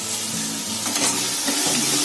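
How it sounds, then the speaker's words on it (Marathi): Onions frying in a pan for a baby fenugreek and potato sabzi, a steady close sizzle with soft stirring scrapes running throughout, no talking. "कांदा फ्राय झाला."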